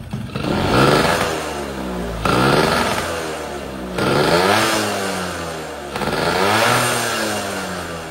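A small motorcycle engine with an upgraded, oversized PWL PE carburetor revs up four times in a row, each throttle blip rising in pitch and dropping back to idle, loud and close.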